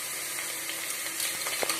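Ginger garlic paste sizzles and fries with golden onions in a pan for mushroom biryani, a steady close hiss with a few faint scrapes and crackles near the end.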